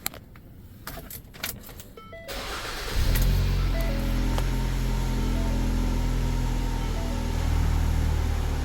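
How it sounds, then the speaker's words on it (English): A car's A/C compressor kicks on with a sudden thump, and a louder steady engine-and-compressor hum follows and holds until the end, after a few sharp clicks over a quieter idle. "I just heard the compressor kick on, and it's cold."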